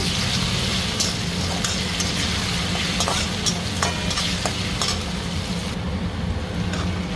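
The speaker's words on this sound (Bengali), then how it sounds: "আদা রসুনের পেস্টও ফ্রাই হয়ে গেছে" Ginger garlic paste fries in a pan with a loud, unbroken sizzle, and a few utensil scrapes and taps cut through it; no one speaks.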